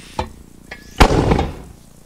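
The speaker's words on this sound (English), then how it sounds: "there's an RPG rocket" A rocket-propelled grenade explodes in the military shooter Arma 3: two small sharp pops are followed by one loud, close blast whose rumble trails off over about a second, with no talk over it.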